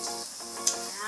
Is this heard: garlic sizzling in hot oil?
yes